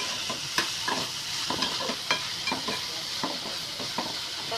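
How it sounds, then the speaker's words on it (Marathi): Tomatoes and coriander roasting in a pan, a continuous close sizzle with frequent rhythmic scraping strokes of a spatula across the pan; no voices. "आता यामध्ये मी हे कोथिंबीर घालून घेते. त्याला चांगली भाजून घेते."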